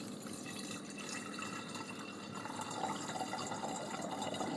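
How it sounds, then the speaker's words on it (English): Unchlorinated water pours steadily into a jar of water kefir grains, a continuous splashing fill that rises slightly in pitch toward the end. "You add unchlorinated water."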